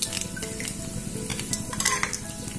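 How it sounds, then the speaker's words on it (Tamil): Mustard seeds hitting hot oil in an iron pan for a Tamil drumstick dish, busy clinks and scrapes of utensil on metal over a light sizzle, close and brief, no voices. "எண்ணெய் ஹீட் ஆனோடனே இப்போ கடுகு போடலாம்."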